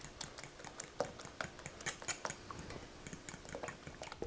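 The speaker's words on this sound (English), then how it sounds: "Take a fork and mix all this together." A fork mixes Worcestershire sauce, dry mustard and minced onion in a bowl, producing quick, irregular metallic taps and scrapes, close but soft, with no talking.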